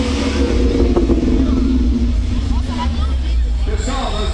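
A Ford Shelby Mustang engine rumbles with a deep, continuous, loud roar, mixed with background crowd chatter throughout.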